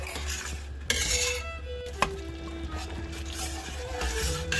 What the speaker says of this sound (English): it is at the point where it is boiling while I'm stirring it